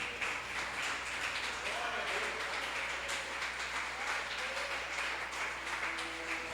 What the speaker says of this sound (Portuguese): Aplauda isso aí, ó, Senhor.